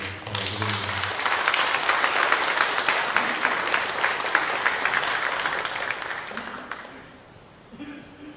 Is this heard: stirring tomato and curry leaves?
no